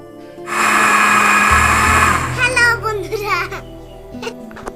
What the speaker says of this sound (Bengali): ঠান্ডা পানি দেওয়ার পর পুনরায় আমরা মিক্সার করব